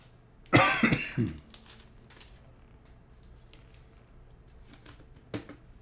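A single loud, close cough bursts out early, followed by quieter scattered taps and rustles while Pokémon card packs are opened.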